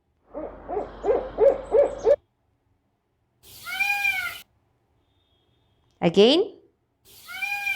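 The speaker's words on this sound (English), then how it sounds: "It is the sound of a peacock." A bright, rising wail repeats twice in a quiet spell, following a stretch of speech; loud and nearby, with a trailing falling tone.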